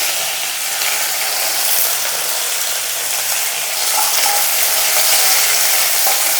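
Curry leaves frying in hot oil together with mustard seeds and two dried red chillies, a loud, continuous crackling sizzle that holds steady throughout.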